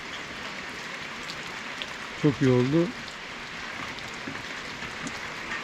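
Steady rain patters on surfaces in a continuous hiss while someone speaks briefly in the middle.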